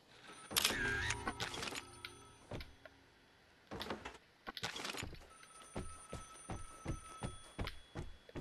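Telephone ringing inside a house in the video game Vigor, heard as repeated bursts of bright ringing with clicks and knocks between them, moderately loud and with no talk.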